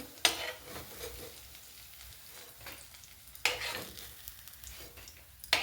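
Soybean and vegetable pakoras frying in hot oil in a village kitchen, a steady close sizzle with three sharp scraping clinks as they are stirred and lifted out, no talk.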